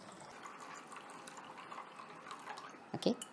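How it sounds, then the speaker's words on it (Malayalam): Water is poured onto chia seeds in a quiet kitchen, a faint trickle building to a short louder splash at the end. "കുറച്ച് വെള്ളം ഇത്രയും കുതിർന്ന് വരാൻ ആവശ്യമായ വെള്ളം ഒഴിച്ചു കൊടുക്കുക"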